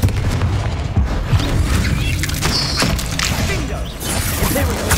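Loud booming spell explosions and crashing impacts in Hogwarts Legacy combat, dense and continuous with sharp cracks and debris, with a voice faintly underneath.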